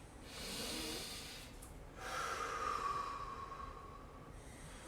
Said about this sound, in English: let's do one more big breath each